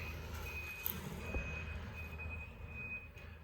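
A delivery truck backs up at a busy Japanese produce market, its reversing alarm beeping steadily and evenly over a low engine rumble and faint background noise, with no one talking.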